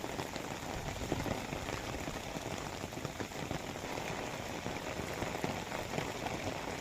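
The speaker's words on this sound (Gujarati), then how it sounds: "રાત્રિના સમયે ભારે પવન અને વીજળી સાથે વરસાદ વરસતો રહ્યો" Heavy monsoon rain pours down in Dwarka, a dense, steady hiss of drops hitting surfaces that stays even and loud throughout with no voices.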